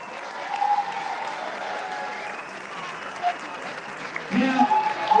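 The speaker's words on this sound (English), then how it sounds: "Big round of applause." Applause at a Melbourne Firefighter Stair Climb presentation, welcoming a newly engaged couple. A steady wash of clapping runs throughout at moderate distance, with a few louder bursts near the end and occasional voices mixed in.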